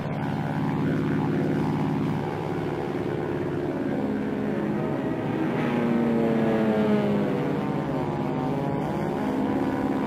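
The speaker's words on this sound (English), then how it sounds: "120 carrier planes set off to strafe the island with" World War II US carrier plane propeller engines drone continuously over Iwo Jima, a steady heavy roar with a pitch shift midway as planes pass overhead.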